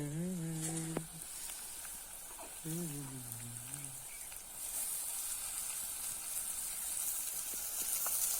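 Chickpea leaf greens (chana bhaji) sizzle in a hot pan, a soft hissing crackle that swells and holds steady after someone speaks briefly at the start.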